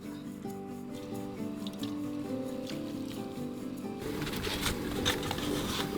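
Boiling water poured into a pan of browned chicken, a close liquid gush and sputtering bubble that swells into a louder seething sizzle midway, with faint music underneath.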